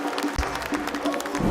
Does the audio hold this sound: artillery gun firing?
no